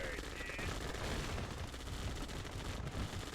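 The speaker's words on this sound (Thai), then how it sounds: "ยิงคนครับ" Dense, continuous gunfire rattles through a Yuri's Revenge battle, layered volleys of machine-gun style shots from many units running without pause and blending with other battle noise.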